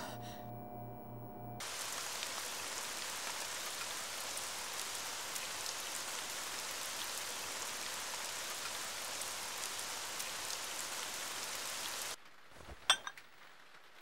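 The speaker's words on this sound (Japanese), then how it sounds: "キラは雨がお好きですか" Steady, dense rain pours down for about ten seconds as an even hiss, starting abruptly after a brief tonal passage and cutting off into quiet with a few faint knocks at the end.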